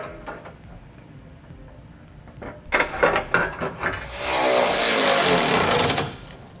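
Power tool tightening bolts on a Derale Series 8000 plate-fin transmission cooler: a few rattling impact bursts, then a sustained loud whirring ratchet of about two seconds, close up and without speech.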